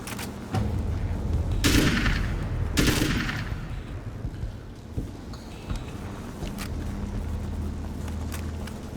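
Automatic gunfire from a weapon in Alan Wake's American Nightmare, two heavy rapid bursts early on followed by scattered single shots over a rumbling game background.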